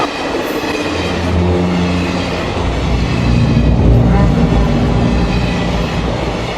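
Steady low rumble and rattling of a moving passenger train interior, continuous and fairly loud throughout with rhythmic rail noise and no clear talk.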